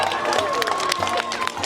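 Crowd noise outside the royal palace in London, a busy murmur of many people with scattered voices and light clapping, steady and close, with talk over it.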